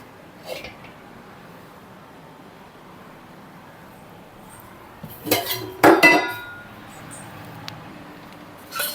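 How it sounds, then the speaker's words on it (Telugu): A large metal kadai is set down on a home kitchen stove for egg rice, giving a cluster of close metallic clanks and clinks near the middle, with faint clatter before and after against quiet room noise. "అదే పెద్ద కడాయి పెట్టుకోవాలి"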